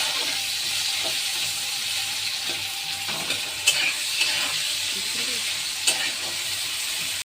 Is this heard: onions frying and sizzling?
yes